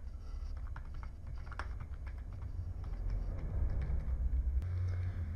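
Keys tap on a computer keyboard while entering text in an Excel spreadsheet, a light irregular patter of clicks over a low background rumble.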